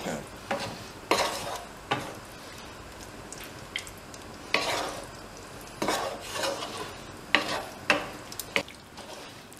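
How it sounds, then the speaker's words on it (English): Lobster is stirred through a sauce in a pan for lobster pasta, a soft sizzle under irregular bursts of utensil scraping and clanks against the pan. "So all we want to do is just cover the lobster in this beautiful sauce."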